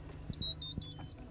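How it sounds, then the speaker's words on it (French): An electronic alarm beeps near a fishing spot, a quick run of about four short high-pitched pulses in under a second, faint and isolated against a quiet background. "Oh, tu vois, l'alarme vient de sonner."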